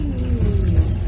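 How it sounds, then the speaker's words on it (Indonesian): Water running from a foot washer tap in the toilet of an executive New Generation train carriage, a steady close splashing flow heard briefly over a low hum of the moving train. "foot washer. Ini bisa buat wudhu, cuci kaki, ada kerannya di sini nih."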